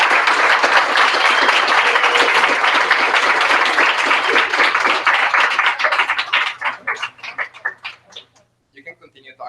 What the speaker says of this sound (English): I guess round of applause for our speakers who are amazing